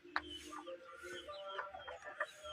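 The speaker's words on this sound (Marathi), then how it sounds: "ही कडकनाथ आहे आणि ही अंडी देते" Kadaknath hens clucking in a Konkan home garden near a thatched shed, a few soft irregular clucks and calls at moderate distance, with a steady low background hum throughout.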